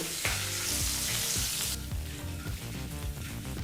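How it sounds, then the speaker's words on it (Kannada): Curry leaves and turmeric powder frying in oil over a low flame make a steady, close sizzle with soft crackles and occasional stirring knocks, heard alone without any talking. "ಈಗ ಈ ಎಲ್ಲ ಪದಾರ್ಥನೂ 2 ನಿಮಿಷ ಲೋ ಫ್ಲೇಮ್ನಲ್ಲೇ ಚೆನ್ನಾಗಿ ಬಿಸಿ ಮಾಡ್ಕೋಬೇಕು. ಅಂದರೆ ಎಣ್ಣೆಯಲ್ಲಿ ಹುರ್ಕೋಬೇಕು"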